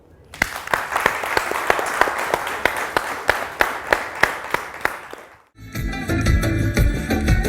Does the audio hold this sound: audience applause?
yes